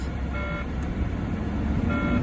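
A truck engine revs steadily at a driving academy to build air pressure, a continuous low rumble with faint tonal hums and no talk.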